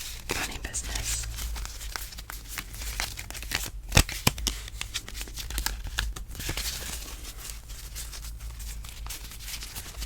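Quiet papery flicks and soft riffling of playing cards being shuffled, with a few sharper snaps, close and intimate.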